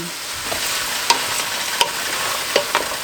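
Beef pieces going into a hot pan for beef stew: a steady close sizzle of frying with a few sharp clacks of utensils and stirring scrapes, no talk.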